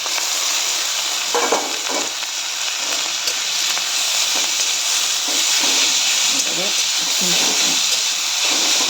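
Boiled flat beans hit a hot pan of fried dried shrimp, setting off a continuous hissing sizzle with occasional stirring clatter throughout, steady and close.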